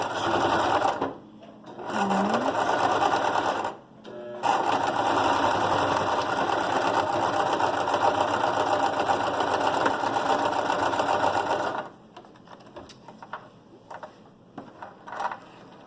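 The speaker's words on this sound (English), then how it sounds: "I put my presser foot down, I hold on to the tails, and I sew." A sewing machine stitches a knife-pleat sample in long continuous runs, loud and steady, with a brief pause early on and a short back-stitch burst before it stops and handling noises follow.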